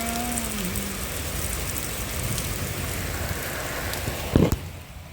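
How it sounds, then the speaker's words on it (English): Heavy rain pours down hard and steadily in Kingston, a dense close hiss of drops on surfaces with a brief louder knock near the end; no talking. "Oh, the rain falls so hard."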